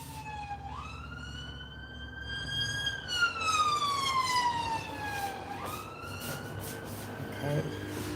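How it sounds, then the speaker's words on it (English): An ambulance siren wails through a street, its rising and falling tone sweeping up and down twice over the steady rumble of passing road traffic. "ambulance"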